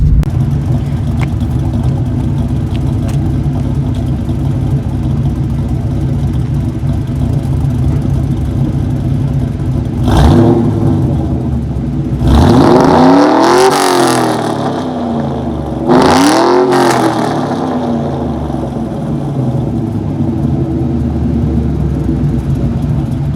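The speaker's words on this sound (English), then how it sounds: "I'm just going to give it some revs up to like, I don't know, 5 grand" A car engine idles with a steady close rumble, then is revved to around 5000 rpm in three sharp bursts, each climbing and dropping back to idle, loud and near.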